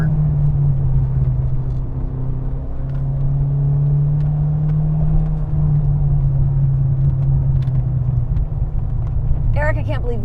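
A mid-engine 1983 Renault R5 Turbo 2 rally car drones steadily at high revs, close and loud, its pitch holding nearly constant before a brief rise near the end.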